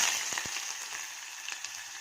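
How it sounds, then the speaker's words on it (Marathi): Chopped onion frying with bay leaf, cinnamon and cardamom for chicken shorba, a steady close sizzle with a few soft stirring clicks, no talking. "कांदा चांगला परतून घ्यायचा आहे"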